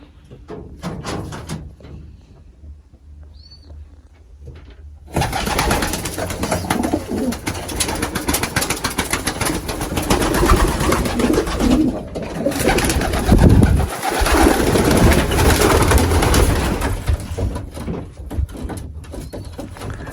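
Racing pigeons in a loft with breeding cages coo nearby in soft, repeated throaty calls over rustling and shuffling, with a brief knock partway through and no talk.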